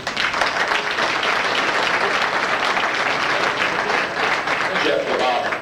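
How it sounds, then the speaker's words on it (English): Audience at a 1993 St Louis auto racing fan club banquet gives a full, loud round of applause, with dense, even clapping throughout and a few voices faintly mixed in near the end. "Give me a round of applause, ladies and gentlemen."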